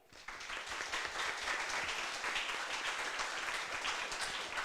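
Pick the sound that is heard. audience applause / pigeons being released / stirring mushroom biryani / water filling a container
audience applause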